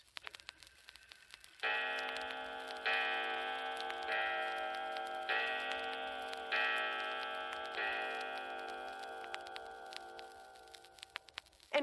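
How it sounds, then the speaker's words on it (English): A grandfather clock strikes six slow, resonant chimes that ring out and fade, with faint steady ticking underneath, close and alone. "And grandfather clocks."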